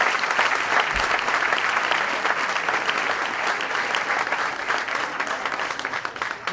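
Steady applause from a crowd gathered outside a speaking event, a dense, continuous wash of clapping that holds at an even level throughout with no voices standing out.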